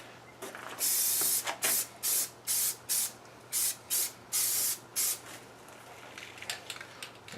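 Self-etching sealer primer sprayed from a can onto a new Cherokee bumper, about ten short bursts of bright hissing spray in quick succession, then quieter handling noise at the end.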